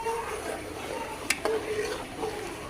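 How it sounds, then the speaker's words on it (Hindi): Kheer in a pot being stirred with a spoon, a soft continuous scraping swirl with one or two brief clinks of the spoon on the pot, faint voice murmur in the background. "तो इसी तरह से इसे हिलाते रहना है कि ये नीचे ना लग जाए। चम्मच को हिलाते रहेंगे।"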